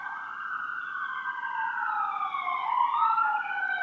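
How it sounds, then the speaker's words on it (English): A wailing siren with rising and falling tones, fairly loud and steady, sweeping upward toward the end with no voices present. "Is that an ambulance?"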